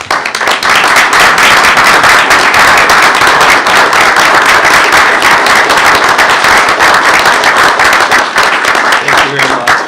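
At a school board meeting, a room applauds career and technical education students and teachers, loud, sustained clapping from many hands close by, continuous and vigorous from start to finish.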